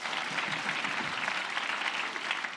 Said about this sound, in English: Round of applause for public libraries